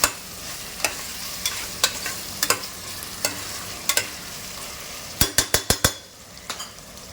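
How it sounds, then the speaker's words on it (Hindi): Goat mutton fries in a pan with a steady sizzle as a utensil stirs it, making sharp metallic clinks against the pan, including a quick burst of several knocks near the end. Nobody speaks. "मटन का कलर चेंज होने तक का थोड़ा भुनाई करेंगे"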